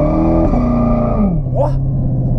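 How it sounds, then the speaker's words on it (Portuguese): A Corvette doing a standing burnout with the brake held, its engine roaring loud and steady before the pitch sags, with a brief high squeal rising near the end. "tá fazendo um borrachão parado com o carro desse jeito"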